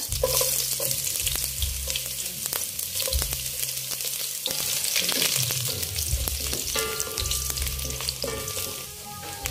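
Ginger dropped into hot cooking oil fries with a loud, continuous crackling sizzle, broken by occasional stirring knocks and scrapes in the pan, close up, with no talking.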